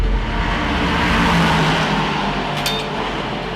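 A race car runs steadily mid-race at the Malaysia round of an endurance championship, a continuous loud engine roar with broadband wind and track noise and no clear passes or gear changes.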